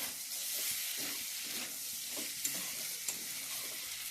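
Chicken pieces fry in a pan, giving a soft, steady sizzle with occasional stirring scrapes and small pops, heard close and alone with no talk.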